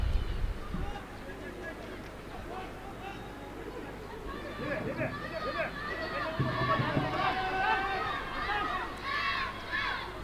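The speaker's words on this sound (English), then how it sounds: "We could hear the home crowd, the cheer getting loud." Home crowd at a Bhutan Premier League football match, Paro FC against Thimphu City FC, a steady roar of chatter and cheering swelling louder through the middle and holding, with voices shouting over the din.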